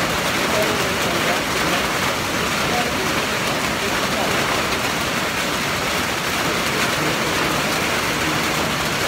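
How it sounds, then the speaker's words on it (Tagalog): Heavy rain pours down in a loud, dense, unbroken hiss throughout, close and steady, in the Philippines. "Grabe, ang ulan talaga."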